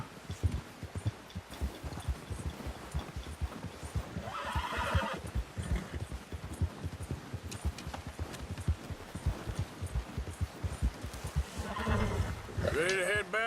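A horse neighs and its hooves clip-clop steadily in the Red Dead Redemption 2 video game, with a rider's voice over the hoofbeats and whinnies rising near the middle and the end.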